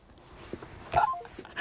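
A few telephone dialing tones come in quick succession, short pitched beeps growing louder toward the end, heard alone without speech.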